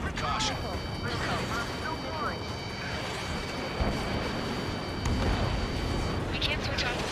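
An explosion in the combat flight game Ace Combat 7, a loud sustained blast and rumble with crackling debris, layered under radio chatter and game voices, with steady tones running beneath.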